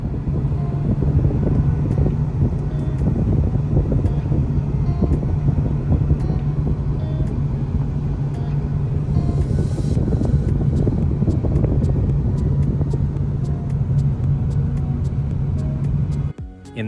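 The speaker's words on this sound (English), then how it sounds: "we're driving at freeway speeds, in traffic, in downtown, and overall, it's pretty quiet." Cabin of an Acura Integra Type S at freeway speed: a steady low road and engine drone with wind rush and a constant hum, faint repeated ticking late on, and no talking.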